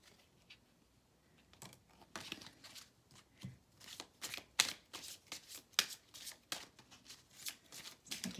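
Tarot cards shuffled close by, quiet at first and then a run of crisp riffling bursts in an uneven rhythm, with faint talk only briefly.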